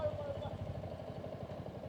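A motorcycle idles steadily near the gate of the Rabangla Buddha temple in Sikkim, a low, even engine throb that runs throughout the short stretch with faint voices around it.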